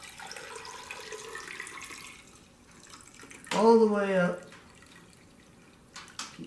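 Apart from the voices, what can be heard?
liquid poured into an engine cylinder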